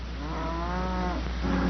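A cow gives a long, low moo over a steady hum, followed by the start of a second moo.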